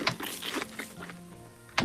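Unfiltered chewing sound effect of a man eating, with close, bright, wet mouth clicks and squelches in irregular bursts, harsher and less muffled than a low-passed version, with no talking.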